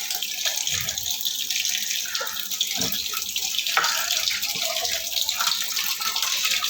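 Water pours steadily into a fish tank during cleaning, a continuous close splashing stream like a running tap, with a few louder sloshes along the way.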